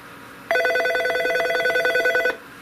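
Incoming call ringing on a Norstar business phone system, a steady electronic warbling trill lasting close to two seconds, clear and alone against faint background hiss.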